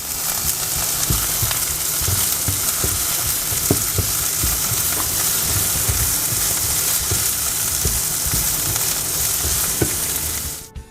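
Ground beef for tacos fries in a hot pan, giving a steady, close sizzle with scattered pops and crackles throughout.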